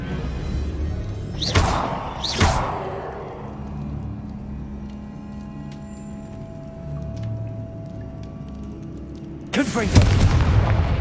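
Bombarda blasting spell explosions in Hogwarts Legacy, two sharp blasts close together early on, a rumbling lull with faint tones, then a louder, sustained explosive burst at the end.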